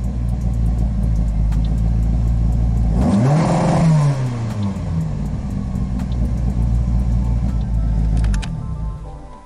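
VW Golf 2 engine held against a rev limiter, a loud, close, steady buzzing drone broken by a sharp rev sweep up and back down, then a return to steady running before it cuts off.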